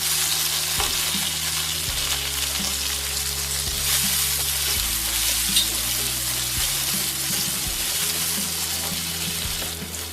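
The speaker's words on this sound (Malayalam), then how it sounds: "നമുക്ക് തക്കാളി ചേർത്ത് വഴറ്റാം." Tomatoes sautéing with onions and fennel seeds in a pan for Kerala-style okra curry, a steady close sizzle and crackle with occasional stirring scrapes throughout, no voices.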